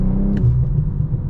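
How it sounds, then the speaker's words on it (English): A 2025 BMW M440i inline-six rumbles and revs close up, its deep, steady engine drone broken by a quick, airy blow-off valve hiss early on. "you can actually hear the blow-up valve"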